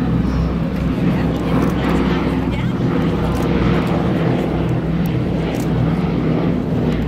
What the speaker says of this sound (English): Last pass by our B-17